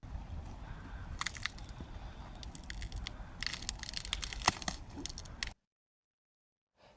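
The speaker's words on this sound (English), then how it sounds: "We had an awful lot of fun cracking the ice on different puddles." Ice crusts on frozen puddles cracking and crunching underfoot on a cold day at an old fortress in Helsinki, a run of crisp, irregular crunches and snaps close by that stops abruptly before the end.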